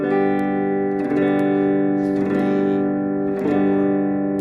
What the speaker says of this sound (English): we're going to strum for each beat in the measure